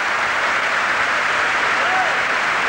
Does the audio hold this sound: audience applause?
yes